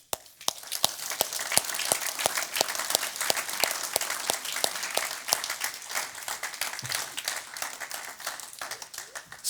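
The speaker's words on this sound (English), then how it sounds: "Some of them are cheering for the Eagles." A church audience at a Vision Night gathering bursts into sustained applause, with dense, steady clapping and a few sharp louder claps running throughout, some cheering mixed into the crowd noise.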